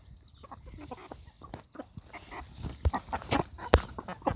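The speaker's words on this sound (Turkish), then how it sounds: "Şu mu çilli horoz dediğin? Hangisi yeni horoz?" A rooster crows and clucks amid scattered farmyard bird noises, fairly close, with a few sharp knocks and rustles.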